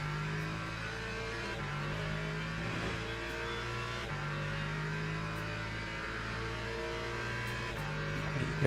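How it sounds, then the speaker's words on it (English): Race car engine in a Le Mans racing video game, holding a steady droning pitch with gear-change steps and rising revs, loud and continuous with no talking. "the engine sounds a bit more sort of like wanting to actually do something"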